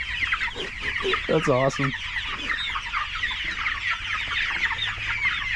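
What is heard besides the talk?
meat chickens clucking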